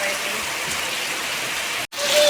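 Heavy unseasonal rain falls outside on a farm, a steady close hiss of downpour that drops out for an instant and returns, with a voice faintly present beneath it.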